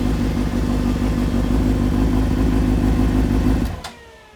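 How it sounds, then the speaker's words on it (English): A 2003-2005 Honda CBR 600RR motorcycle engine runs with a loud, steady, close mechanical drone, then cuts off abruptly near the end and leaves a brief quiet tail. "press your starter switch, and your bike should fire right over"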